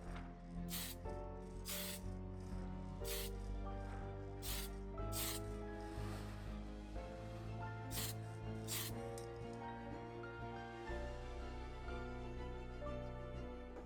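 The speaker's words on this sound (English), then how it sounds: "applying gloss varnish and getting the model ready for weathering" Gloss varnish sprayed onto a 1/35 Trumpeter tank model from an airbrush or can, in a series of close, short hissing bursts of varying length over soft background music.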